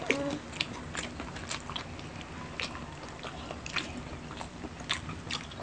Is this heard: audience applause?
no